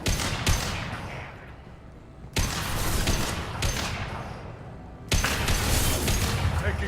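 Gunfire in Mass Effect 2, heavy bursts striking close by that swell and fade in waves, with muffled voices mixed in beneath the shooting.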